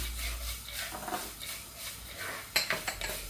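Coriander seeds dry-roasting in a pan for a roasted-and-ground fish curry, giving soft rattling and scraping with a few sharper metallic clinks of a utensil against the pan near the end.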